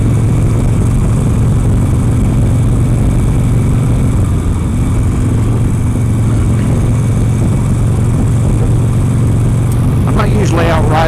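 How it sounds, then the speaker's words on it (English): Harley-Davidson motorcycle cruising at about 45 mph in the evening, a loud steady engine drone with wind rumble that holds constant throughout, close up and without pause. "Let's get on a bike and go somewhere."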